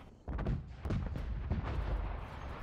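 An explosive detonation in an online multiplayer shooter, a muffled low rumbling boom that swells and lingers, heard at low level.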